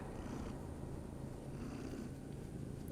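A cat purrs up close in a low, continuous rumbling drone, quiet and steady from start to finish with no talking over it.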